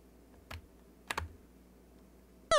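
Three sparse keystrokes on a non-mechanical computer keyboard during a baseball game, soft close clicks at a slow uneven pace in a quiet room, followed by a sudden bright game tone at the end.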